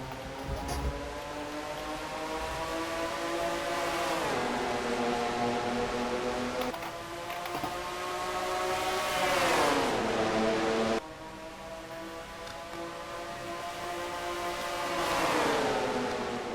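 Several Chevrolet stock cars race at Dover in a video game, their engines droning loudly together and rising and falling in pitch through the corners, with no break for the whole stretch.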